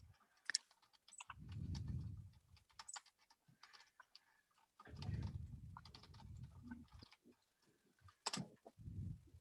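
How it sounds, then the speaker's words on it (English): Soft, irregular clicking of a computer keyboard as notes are typed during a town website committee meeting, faint and close, with quiet pauses between bursts of keystrokes. "I'm looking down and typing"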